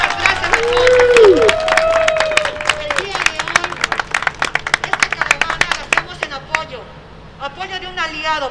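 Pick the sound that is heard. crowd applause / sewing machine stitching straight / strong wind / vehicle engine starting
crowd applause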